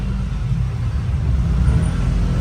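Road traffic heard from inside a jeep in Baguio: a low, steady rumble of engines and road noise, fairly loud and continuous over a short stretch with no talk.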